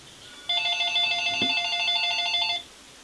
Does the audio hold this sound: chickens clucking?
no